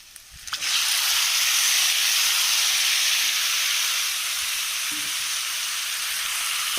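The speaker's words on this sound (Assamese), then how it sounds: "ইয়াতে মাংসখিনি মই দি ভালদৰে ভাজি থাকিম" Chicken meat hitting hot oil with onion, chili and garlic in a pan, bursting into a loud, bright hiss that swells then settles into a steady sizzle, close up and with no talk.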